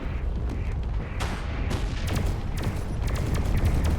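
Coil gun turrets fire in Space Engineers during head-on ship combat: a rapid series of sharp, crackling bursts and booms, fairly dense and irregular, over a low rumbling background.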